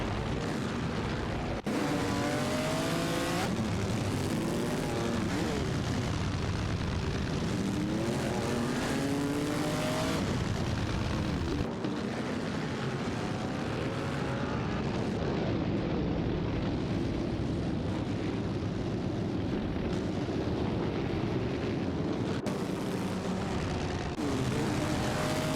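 Vintage racing cars, a Mercedes-Benz W125 and an Auto Union Type D, in a racing game, their engines droning loudly and continuously with rising and falling pitch sweeps as they battle, a constant dense roar.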